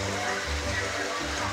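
Water runs steadily through a gem-mining slosh bucket, a continuous close rushing and splashing with a person talking over it.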